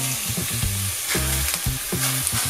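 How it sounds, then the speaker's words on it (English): Minced meat fries in a pan for chilli con carne while being broken up, giving a steady close sizzle with repeated scraping and stirring strokes throughout. "Try and like break up the mince."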